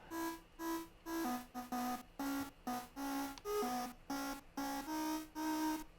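A synth layer called Z in Synth Master plays short repeated notes of shifting pitch, forming a small bright harmony in clipped, evenly spaced pulses, soft and alone.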